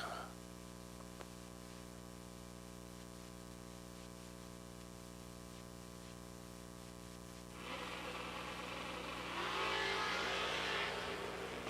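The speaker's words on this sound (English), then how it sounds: "Oh, we got a drag race." Drag race cars accelerate down the strip at the Fuel Factory 250K, a faint distant engine roar that swells in the last few seconds over a steady electrical hum, with a commentator's voice.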